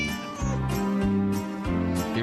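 A radio station jingle with a sung melody and backing music, punctuated by repeated cat meows layered over the tune, loud and close throughout.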